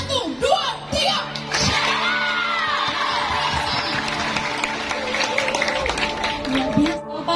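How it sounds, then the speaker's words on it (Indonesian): A church youth jamboree audience in Alor Tengah Utara cheers loudly, with whoops, shouts and yells over a steady crowd roar and sustained tones in the background, mixed with voices throughout. "Tepuk tangan dan ucapan shalom yang paling meriah."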